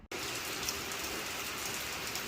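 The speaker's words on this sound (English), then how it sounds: "here is the rain that I've got to drive home in this gator." Rain falls steadily on a farm, a dense continuous hiss of drops that begins abruptly after a brief moment and stays loud and even throughout.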